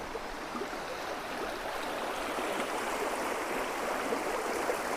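Icy, crystal-clear water of a forest stream in the Aralam wildlife sanctuary babbles steadily over stones, close and continuous with no voices.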